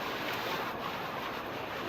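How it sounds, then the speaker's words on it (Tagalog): Floodwater rushes off a road into a flooded rice field, a loud, steady roaring wash of churning water that runs unbroken from start to finish with no voices. "Bumaragasa yung agos."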